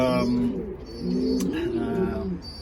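Pigeons coo in a loft, with repeated soft, low throaty calls close by that come in two or three rolling phrases and are joined by a faint higher chirp.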